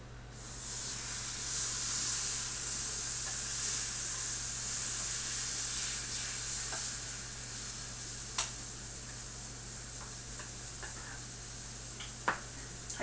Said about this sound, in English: now it's time to stick it in the waffle iron, which has been heating up over here